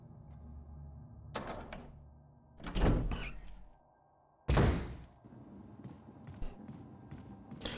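Several door sounds from Resident Evil 1: a heavy door opens with a loud thunk and creak, followed by another solid thud a moment later, with softer bumps before and after in a quiet room.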